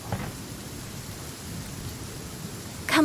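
Steady rain in the video game Genshin Impact, a constant hiss with low rumbling thunder underneath and a louder burst of sound at the very end.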